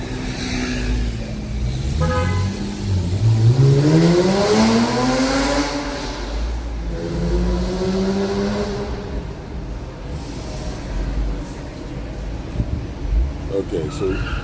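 A car pulls away, engine rising and revving through shifting tones, loud and close for several seconds before settling, with light clatter at the end.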